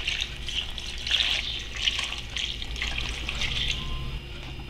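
Water poured into a pot of pineapple sweet, a steady trickling and splashing stream that runs throughout at moderate volume, with no talk.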